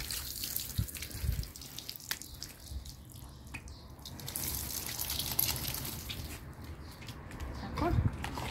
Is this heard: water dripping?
yes